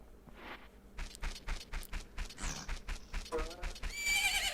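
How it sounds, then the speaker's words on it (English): Horse neighing with clip-clopping hooves in the Zelda game Majora's Mask, a whinny standing out among repeated hoof beats while speech runs alongside. "Isn't that your horse?"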